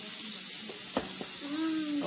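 Onion frying in a hot pan for shrimp with garlic, a steady close sizzle running throughout with a few brief clinks of a utensil against the pan.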